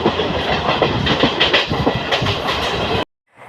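A moving passenger train between Jagiroad and Guwahati rumbles loudly with a rhythmic clatter of wheels on track, then cuts to near silence at the end.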